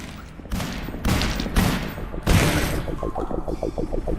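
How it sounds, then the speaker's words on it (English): A burst of gunfire with many bullets: several heavy, loud cracks land in quick succession, followed by a faster rattling string of shots trailing off at the end, close and without talk. "That was a lot of bullets."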